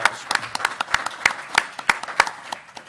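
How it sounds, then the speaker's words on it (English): An audience at a political event on union representation gives a short round of applause, a loose spatter of individual claps, fairly close and crisp, alone without talk. "I would like to give you a round of applause"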